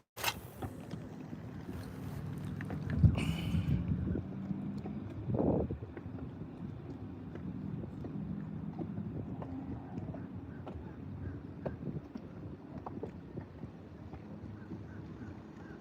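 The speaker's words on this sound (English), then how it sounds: "The wind started winning again." Wind sweeping over a bass fishing boat on the water, a continuous low buffeting rumble close to the microphone, with a few knocks early on.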